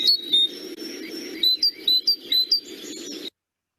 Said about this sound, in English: the tufted titmouse.